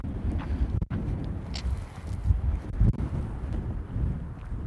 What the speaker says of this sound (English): Look at how windy it is here today.